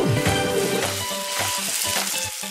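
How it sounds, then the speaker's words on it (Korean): Aged pork tomahawk seared skin-side down in a hot pan, a steady crackling sizzle with spitting fat, moderately loud and close, with no talking. "껍데기 부분을 먼저 이렇게 시어링을 해주는 거예요"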